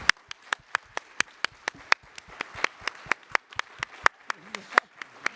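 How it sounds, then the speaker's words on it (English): Applause at an education conference session thanking a keynote speaker and commentators, a few people clapping in a sparse, rhythmic pattern of sharp distinct claps, fairly close. "Please allow me to invite you another round of applause to thank our keynote"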